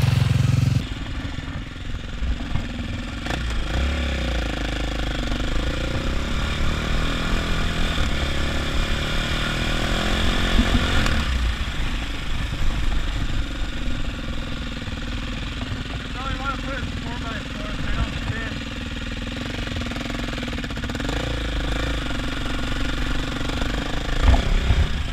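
A KTM quad and a Maverick X3 side-by-side race with their engines revving and droning loudly throughout, pitch rising and falling as they accelerate, with a voice briefly heard beneath the engine noise.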